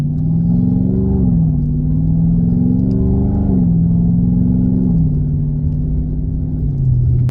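A muscle car's engine rumbles loud and close as the car pulls away on a drive, with the low tone rising and stepping down several times through gear changes under steady throttle.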